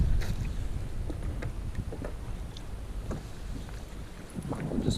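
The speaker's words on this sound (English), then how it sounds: "We'll just paddle for a little bit here, and that'll inflate the anchor." A fishing kayak is paddled on open sea off Northland, New Zealand, with soft splashes and dips of the paddle, close and irregular, over steady wind buffeting the microphone.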